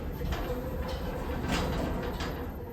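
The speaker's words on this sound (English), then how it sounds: "Really rattly door." A rattly door on an old Westinghouse MPH elevator in a university residence hall slides along its track with a steady, loose mechanical rumble and clatter, close by.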